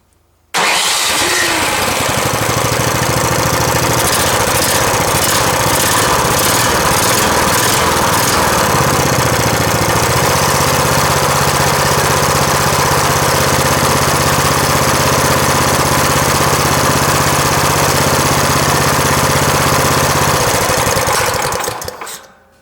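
A repaired snow blower's small engine starts and runs steadily at a loud, constant level for about twenty seconds, its tone shifting slightly as it settles into a steady idle, with no talking.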